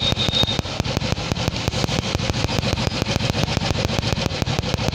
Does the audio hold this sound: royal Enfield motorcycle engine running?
yes